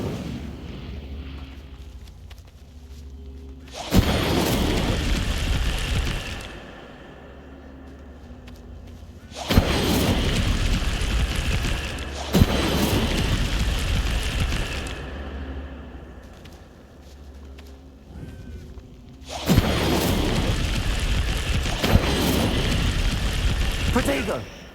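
Incendio fire-spell blasts erupt in Hogwarts Legacy combat: three loud, roaring bursts, each holding for a couple of seconds, separated by quieter stretches where a voice shouts spell names.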